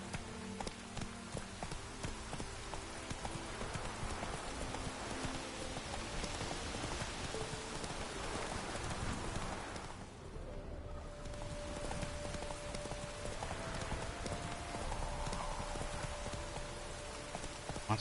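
Roach the horse from The Witcher 3 trots with steady clip-clopping hooves through falling rain, the hoofbeats mixed into a continuous wash of rain on the ground alongside faint game music, with no talking.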